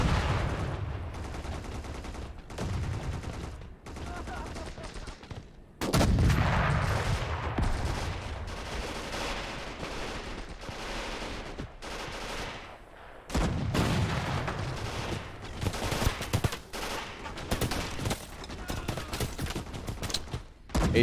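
Heavy battlefield gunfire and booming grenade launcher blasts in the WWII strategy game Gates of Hell, with sustained crackling volleys and several louder explosive thumps scattered across the stretch.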